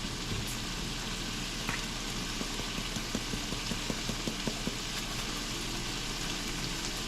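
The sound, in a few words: food with onion frying in a pan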